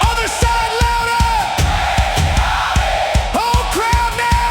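A concert crowd yells and sings along in unison at a country music show, loud and close, with rhythmic low thumps under the voices.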